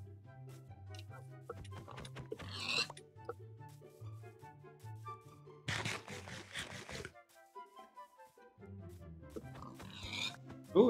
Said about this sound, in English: Oh, there's a three pigs over here.